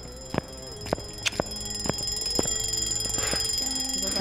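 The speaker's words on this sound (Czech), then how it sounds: "Já mě tady začal random zvonit budík třeba" An alarm clock ringing during a Halloween ghost hunt, a repeated electronic beeping that starts with a few separate beeps and turns into a continuous loud ring, with no talk over it.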